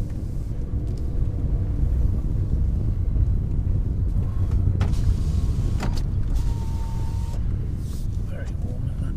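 Interior of a car driving toward a harbour in Galloway on a warm day: a constant low road rumble and engine drone fill the cabin throughout, with a few faint clicks and light wind noise.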